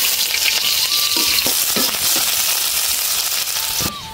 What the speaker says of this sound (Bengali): আমার পেঁয়াজ ভাজা হয়ে গেছে